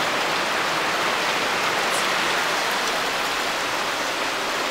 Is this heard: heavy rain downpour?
yes